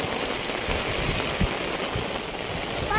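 Steady rain falls outdoors on a Philippine island, a dense continuous hiss of drops on surfaces with a few louder splashes, no voices heard.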